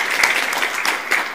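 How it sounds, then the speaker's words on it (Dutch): Audience applause greeting the first author of a youth jury day's author talks, steady broadband clapping filling the short stretch with a few louder bursts. "Ik geef jullie een hartelijk applaus voor de eerste schrijver van de auteursgesprekken vandaag, Natasja Tardio!"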